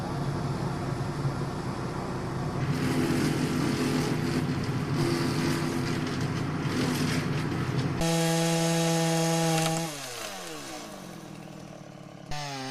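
A chainsaw drones loudly and continuously while tree branches are trimmed, its pitch shifting as it revs and then dropping to a steadier idle near the end.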